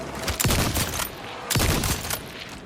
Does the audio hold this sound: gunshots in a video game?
yes